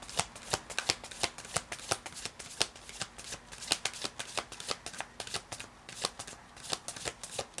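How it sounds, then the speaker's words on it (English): Tarot cards are shuffled by hand, with many quick crisp riffles and flicks repeating in an uneven rhythm, close up and fairly quiet, with no voices. "Guess I shuffled you all too much."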